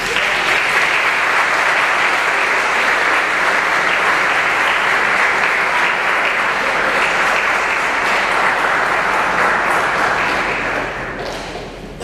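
Sustained, dense applause from an audience at a board of education meeting honoring athletes, steady and loud throughout before tapering off near the end.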